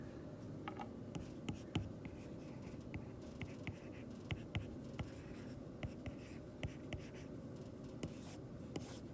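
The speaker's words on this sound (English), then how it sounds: "write that in." A pen writing an answer on a physics worksheet, faint close scratching strokes in short repeated bursts over a quiet room hum, with no voices.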